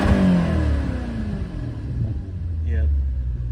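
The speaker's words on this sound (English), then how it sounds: "you can tell the car idles phenomenal, perfect, no issues here" A 2008 Maserati GranTurismo S engine and exhaust idling in sport mode, a steady low rumble close by that stays even throughout, with someone talking over it.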